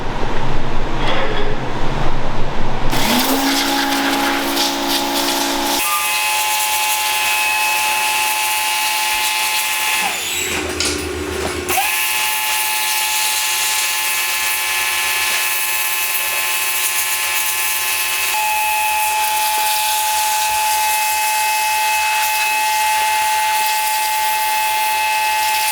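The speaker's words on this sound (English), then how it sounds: "now it's time to take the pressure washer to it" A pressure washer blasts an elk skull clean after hours of simmering, giving a loud, steady hiss with a high whine that runs unbroken for about twenty-five seconds, briefly changing pitch midway.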